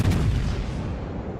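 Heavy battleship guns from a Montana fire at a Hindenburg in the naval game World of Warships: one deep, loud boom that rolls off into a fading rumble.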